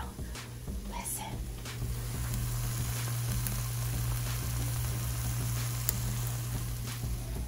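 An egg and a tortilla sizzle steadily in a pan for a breakfast taco, a close, continuous crackling fry with a low hum underneath.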